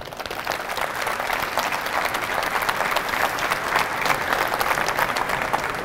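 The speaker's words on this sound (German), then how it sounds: "Applaus" Sustained audience applause at a campervan meetup during the Caravan Salon trade fair, a dense steady wash of many hands clapping throughout, fairly loud and close, with no talk over it.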